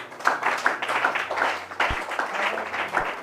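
A church congregation applauding during a Bible teaching session, a dense steady patter of many hands clapping for a few seconds at moderate volume with a couple of low thumps.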